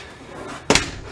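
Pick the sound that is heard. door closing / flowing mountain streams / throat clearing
door closing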